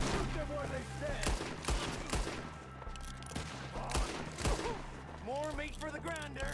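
Rapid gunfire in Red Dead Redemption 2, many sharp overlapping shots in quick bursts across the whole span, loud and dense, mixed with shouting voices and battle noise.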